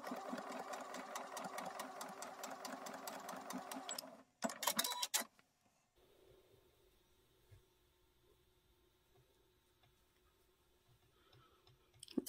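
Sewing machine stitching a seam across patchwork fabric, a rapid steady mechanical rattle for about four seconds, a brief burst, then quiet room tone with faint clicks.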